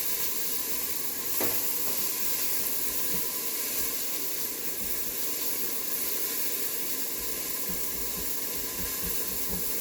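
Onion and garlic sizzling in pork fat in a pot, a steady, even frying hiss that continues unbroken with a faint crackle now and then.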